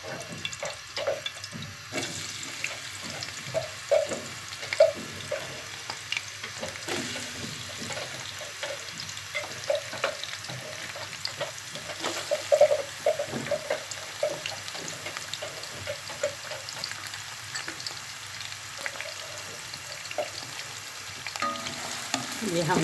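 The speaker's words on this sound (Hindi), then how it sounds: "ये हमने प्याज डाल दिया कढ़ाई में।" Onions frying in ghee in a kadhai for spicy chicken with shimla mirch, a steady crackling sizzle with occasional stirring scrapes and faint watery sounds, continuous and fairly close.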